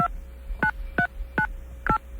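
Telephone keypad tones dialing a 900 number, five evenly spaced dual-tone beeps, clear and close, with a faint steady hum beneath and no speech.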